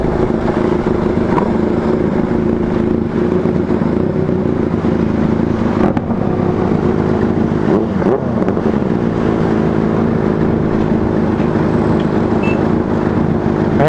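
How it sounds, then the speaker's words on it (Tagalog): Benelli TNT 600i motorcycles fitted with Two Brothers exhausts ride along with a continuous, loud engine and exhaust roar, the pitch shifting as they accelerate and ease off, with no talking over it. "Ang ganda ng mga tunog ng tambutso nila, nakakainggit."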